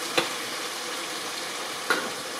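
Pork browning in a pot with bouillon cubes for green chili, giving a steady, close hiss of sizzling with a couple of brief sharper pops.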